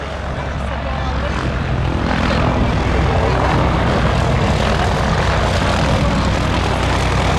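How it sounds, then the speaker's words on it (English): A propeller aerobatic plane roars steadily through a stall turn at the Little Gransden flying display, its loud engine drone continuous and close. "Nope, he's doing a stall turn to the right again."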